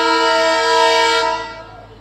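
MEMU passenger train at Vemuru railway station sounding a long, loud, steady horn blast close by, holding for over a second before fading away.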